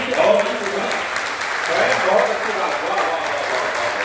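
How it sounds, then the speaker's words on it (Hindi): An audience at a Hindi poetry gathering (kavi sammelan) in Sitapur claps loudly and steadily for about four seconds, a dense wash of hands that swells slightly midway and carries faint background voices. "मैं चाहता हूँ कि एक बार जोरदार ताली।"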